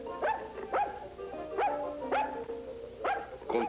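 A dog barks in six short, fairly faint yips and bow-wows spaced in pairs across a few seconds, alone without voices.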